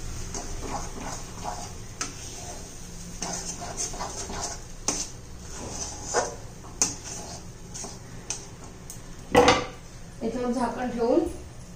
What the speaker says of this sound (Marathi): चांगलं आपण परतून घेऊया।